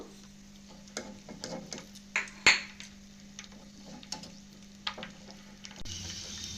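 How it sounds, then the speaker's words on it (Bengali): Cashews and raisins frying in oil give sparse crackles and small pops, with a few clinking stirring knocks over a faint steady hum. "ওই তেলের মধ্যেই আমি কিছু কাজু আর কিসমিস নিয়েছি সেটাও একটু ভেজে নেবো"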